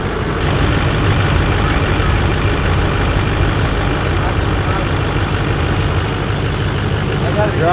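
An LBZ Duramax diesel truck engine, modified with weight reduction, runs at a steady, loud idle with a deep rumble that holds evenly throughout, close by and with no talking.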